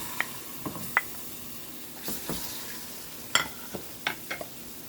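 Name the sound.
lamb testicles frying in olive oil on low heat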